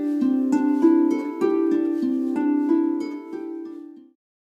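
A double strung harp plays a staggered contrary-motion pattern, hands moving in opposite directions, with bright plucked notes overlapping in a steady flowing rhythm before fading to silence.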